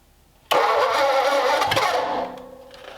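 Ford Flathead engine cranking over on a jump pack after an uncharged battery, a sudden loud churning burst that holds steady for about two seconds and then drops to a quieter mechanical rumble, with no clear catch.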